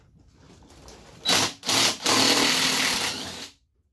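A compact impact driver loosens a bolt on a push mower engine in three close, loud bursts of buzzing whir with brief gaps, heard alone and stopping cleanly.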